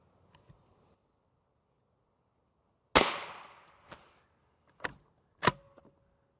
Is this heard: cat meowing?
no